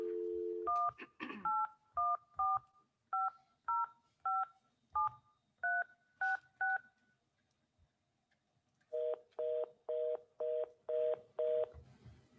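A telephone dial tone sounds briefly, then a run of about fourteen DTMF keypad beeps in two bursts, evenly spaced and clear, with small handset clicks and no speech.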